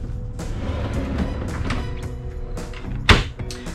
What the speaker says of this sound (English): And there's a pull out garbage can.